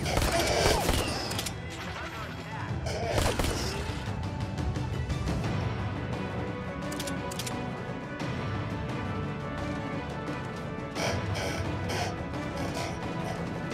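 Two guns fire in the VR video game Ark Park, with rapid bursts of shots and crashing impacts at first, then scattered shots over game noise while a person talks.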